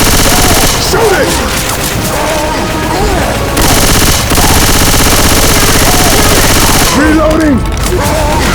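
Sustained, loud gunfire from several weapons in Left 4 Dead 2, dense bursts and automatic fire rolling on almost without pause, with a few voice fragments mixed under the shooting.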